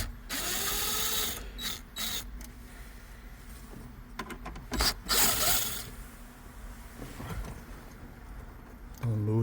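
A ratcheting tool backs out torque screws from the metal dash frame of a 2014-2016 Range Rover Sport, giving bursts of rapid clicking and mechanical rattling that stop and start, with talk over them.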